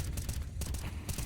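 Counter-Strike gunfire in a competitive tournament match, a few rapid bursts in fairly quick rhythm, moderately faint within the game mix, with no voices.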